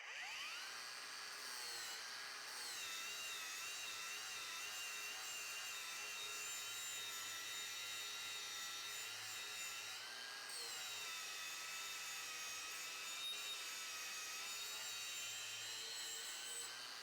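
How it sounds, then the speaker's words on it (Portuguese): Ecosen cordless angle grinder running at top speed with a 120-grit flap disc, grinding metal in a steady, loud, high-pitched whine that holds throughout with small dips in load and no talk. "Coloquei um disco flap, gramatura 120 grão, bateria nova, bora lá."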